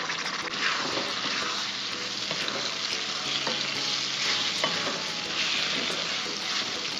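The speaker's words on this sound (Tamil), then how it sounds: "தக்காளி சேர்த்து நல்லா வதக்கி விட்டுருங்க." Tomatoes sautéing in a pan with onion and garlic for a lentil kuzhambu, a loud, dense, continuous sizzle heard up close, broken by a few stirring scrapes.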